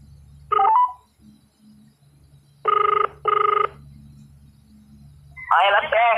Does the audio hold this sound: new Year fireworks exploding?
no